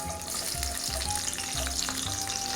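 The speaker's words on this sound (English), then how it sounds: "the oil's hot, and we're gonna throw our garlic in." Garlic tossed into hot oil in a home kitchen for spaghetti aglio e olio, a loud continuous sizzle and crackle that swells in short pulses as the pan is moved, with no talking.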